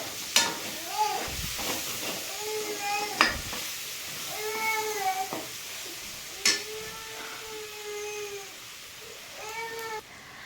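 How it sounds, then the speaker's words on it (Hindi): Onions frying in a pan with spices such as coriander powder, a soft steady sizzle punctuated by sharp stirring clatters, while a cat meows repeatedly nearby in a home kitchen. "प्याज को हम तब तक पकाएंगे जब तक कि इसका मतलब जो कच्चापन है वो हट ना जाए।"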